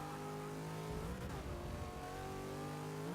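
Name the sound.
race car accelerating in Forza video game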